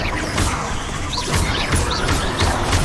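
Bombarda and Confringo spell blasts in Hogwarts Legacy, a series of sharp bursts and impacts repeating every half second or so over a dense bed of game music and ambience, with chirping accents overhead.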